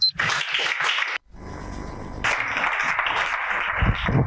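Audience applause for a presenter at the finale of a televised Star TV talent contest, a steady roar of clapping from a crowd that swells after a brief pause and continues loudly to the end.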